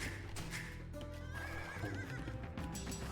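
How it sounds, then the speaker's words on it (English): A horse neighs and whinnies over clip-clopping hooves, the cue for a cavalry unit being trained in the video game Age of Empires 2, clear and prominent over a low game backdrop. "That is the beautiful sound effect of us getting horse dudes."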